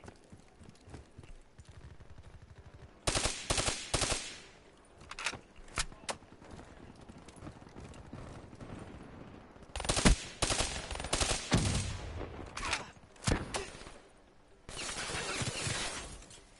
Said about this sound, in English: I'm gonna start firing